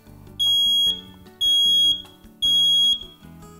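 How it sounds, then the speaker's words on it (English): A smoke alarm sounds three loud, piercing beeps in a regular rhythm, each about half a second long, with quiet gaps between. "So I'm going to set this alarm off and it'll be loud here."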